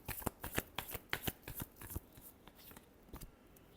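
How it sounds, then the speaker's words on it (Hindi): Tarot cards are shuffled close up in a quick riffling rhythm of soft, papery slaps and flicks that slows and thins toward the end. "last shuffle,"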